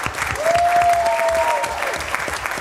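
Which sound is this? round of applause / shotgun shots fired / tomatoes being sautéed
round of applause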